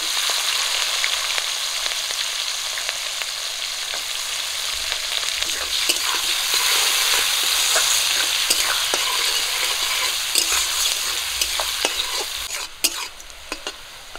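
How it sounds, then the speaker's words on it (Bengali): Onions frying in hot oil in a village kitchen with cinnamon, cardamom, cloves, green chilli and bay leaf, a loud steady sizzle with scraping stirs throughout, no voices. "পেঁয়াজ একটু লাল করে ভেজে নিয়েছি"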